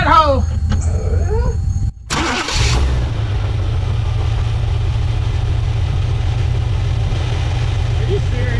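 A 1987 GMC Suburban fitted with an Evil Energy carburetor cranks and then catches, settling into a loud, steady idle rumble close by; people talk over the cranking before it fires.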